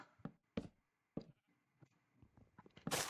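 Sheep bleat in a block-building video game, several short separate bleats spaced irregularly and fairly close, ending in a brief burst of bright noise, with no talking.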